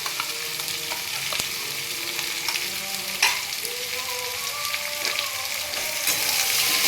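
Katwa stalks sauté with turmeric and ginger-green chili paste, giving a steady close sizzle with occasional stirring scrapes and clicks, no voices.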